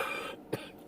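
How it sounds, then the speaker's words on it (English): A single sharp cough from a person outdoors, sudden and brief, standing out near the middle against a steady background hum. "you heard that cough all of a sudden"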